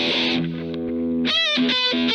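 Distorted electric guitar plays a short lick from a rock song, with sustained overdriven notes followed by a bent note and quick choppy repeats, loud and close with no talking.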